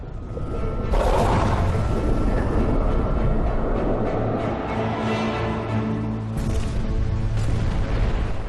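Deep booming torpedo explosions from a World War II Atlantic naval battle roll out against a heavy rumbling background, with a sharp burst near the start and another later on.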